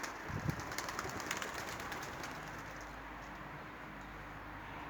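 Pigeons coo softly in a racing pigeon loft, a few low throaty calls early on against a steady hiss of background noise, fading into a quieter stretch.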